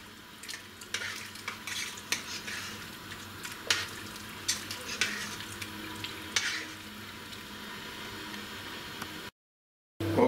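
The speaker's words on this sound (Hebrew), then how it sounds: "אוקיי, המרק רותח" Bean soup simmers in a pot while a spoon stirs it, giving repeated scraping and clinking strokes over a low bubbling, sizzling background, close and moderately quiet, with a brief dropout near the end.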